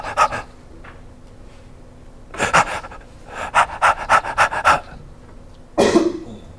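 A human voice imitates central neurogenic hyperventilation, the irregular breathing of a head-injured patient: loud, rapid, breathy panting bursts in clusters separated by short pauses.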